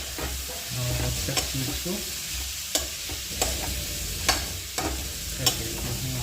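Potatoes stirred into a vegetable curry frying in a pan, steady sizzle with periodic sharp scrapes of the spoon against the pan, someone talking briefly over it.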